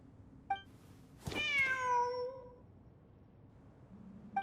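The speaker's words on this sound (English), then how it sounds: "Wait, there it is! The cat!" A cat in the video game Genshin Impact lets out one clear, drawn-out meow with a falling pitch. Faint short chirps come just before it and again at the end, over a quiet background.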